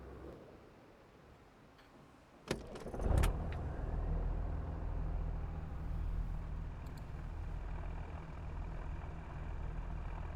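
JCB Fastrac tractor with a 400-horsepower engine in Farming Simulator 25, a steady engine drone that swells after a brief clunk and holds loud and close while driving.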